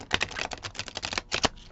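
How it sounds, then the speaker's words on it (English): Tarot cards are shuffled by hand, a quick run of crisp riffling flutters and soft card slaps in close succession, heard up close with no talking. "we're going to go ahead and shuffle and cleanse them a little bit more"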